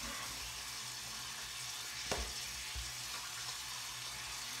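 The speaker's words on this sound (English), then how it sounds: "So, I'm going to rinse this towel." A towel rinsed under a running tap at a sink, a steady close hiss of flowing water with a brief splash midway and no talking.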